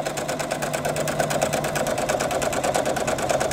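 A sewing machine back stitching the seams of a crib-size quilt runs steadily and close up, its needle chattering in a fast, even rhythm throughout with no pauses.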